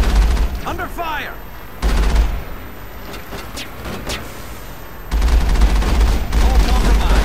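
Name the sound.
gunfire in combat, Mass Effect video game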